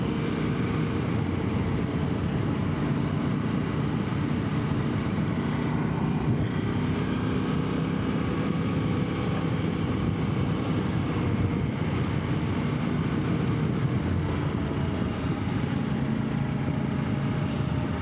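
A Kove 800X Rally adventure motorcycle with knobby front tyre rides through town, its engine and road noise a steady, continuous drone mixed with wind rush, with no talk.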